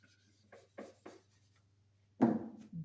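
Handwriting strokes on a surface during a lesson on malloc, several short scratchy marks in quick succession, then a louder scrape after a pause, heard close and clear in an otherwise quiet room with a low hum.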